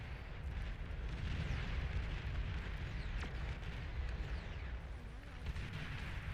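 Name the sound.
commander unit detonating, explosion in video game Beyond All Reason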